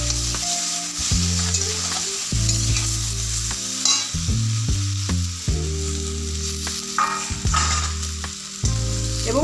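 Vegetables for Bengali shukto sizzle in a pan as cut flat beans and brinjal go in. A spatula scrapes and stirs with repeated clatters over steady frying.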